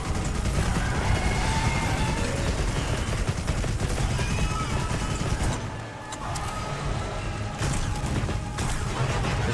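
Sustained gunfire in Monster Hunter Wilds as a hunter shoots at a monster's arm, a dense, loud, unbroken barrage that dips briefly near the middle before picking up again.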